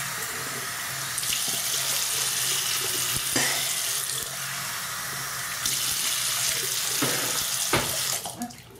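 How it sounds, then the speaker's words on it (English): Tap water runs steadily into a sink while a face is rinsed by hand, with bursts of splashing and dripping as water is cupped and thrown, close and continuous without speech. "So now I'm gonna rinse my face with my hand first."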